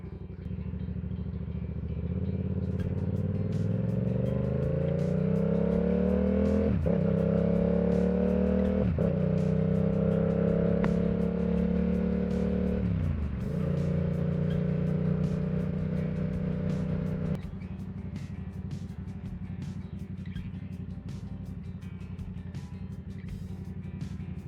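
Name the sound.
2022 Yamaha R7 motorcycle riding on the highway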